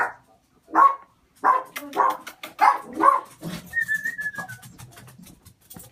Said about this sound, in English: So she's gonna keep barking, but that's okay.